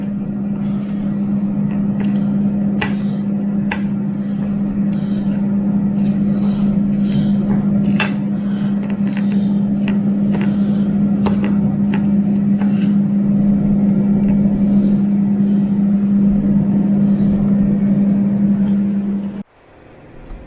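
Air fryer running while preheating in a kitchen: a steady, loud fan hum with a constant low drone, occasional light clicks and clatter over it, then cutting off abruptly near the end.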